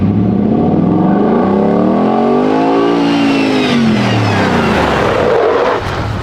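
A restored and modified Ford Bronco drives by close and loud, its engine rising and falling through a sweeping rev that fills the whole clip with no talking.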